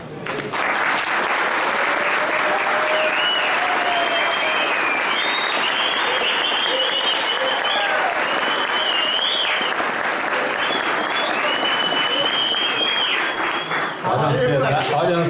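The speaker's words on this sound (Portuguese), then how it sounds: "eles vão demonstrar isso com muito carinho, com um aplauso carinhoso a vocês." Wedding guests applaud the couple during a ceremony with a sand ritual, a loud, sustained burst of clapping from a crowd that fills the whole stretch, with some chuckles mixed in before it thins near the end.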